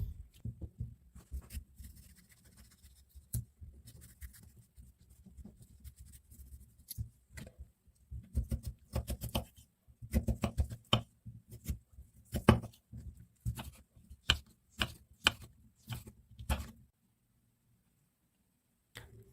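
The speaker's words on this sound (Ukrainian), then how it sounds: "Свіжий огірок нарізаю кубиками." Crisp knife strokes on a cutting board cubing fresh cucumber, irregular at first then coming in quick runs of sharp taps, close up and without speech.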